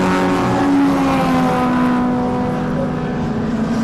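A little Opel Corsa rally car's engine droning steadily at a rally round, a sustained tonal note that slides and holds, heard from a distance over a broad outdoor rumble.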